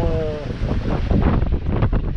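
Strong wind of about 20 knots roars across the microphone on a boat passing Île aux Rousses, with rough open sea around; a steady loud buffeting rush with no break.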